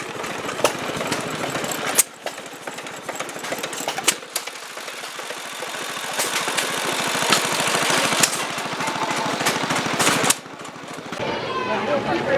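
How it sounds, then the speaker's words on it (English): Antique hit-and-miss engines driving a water pump at a fair, giving off sharp intermittent bangs and a rapid mechanical clatter over a continuous running drone, close and loud, with crowd chatter faintly around. "Here's some hit and miss engines powering a water pump."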